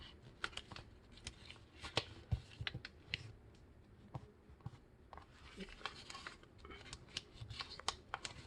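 Sheet of paper being folded into a paper airplane, with repeated crisp creasing, rustling and sharp sliding taps close up, irregular bursts throughout with no talk.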